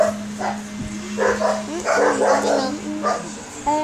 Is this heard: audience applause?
no